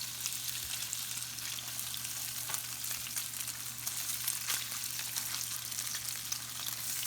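Fish cakes frying in a hot pan of oil, a continuous soft crackling sizzle held at an even level for several seconds, with a low steady hum underneath and no voices.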